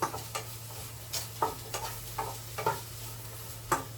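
A spoon scrapes and stirs beans in a frying pan in a home kitchen in Kuwait, with irregular clattering strokes over a soft, steady sizzle and no talking.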